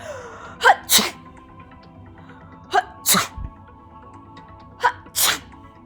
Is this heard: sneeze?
yes